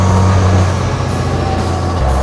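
A 1940 Dodge WC 3500 4x4 truck fitted with a Cummins 5.9 diesel engine idles close by, giving a steady, loud, deep rumble that holds throughout with no talking.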